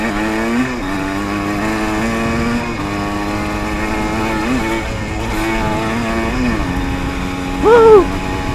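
Dirt bikes, a 1985 Yamaha IT and a Kawasaki KX125, run with steady engine drone and shifting revs, holding a constant loud level throughout with a brief surge near the end.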